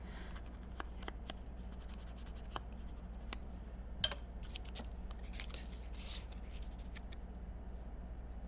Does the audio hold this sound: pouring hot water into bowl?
no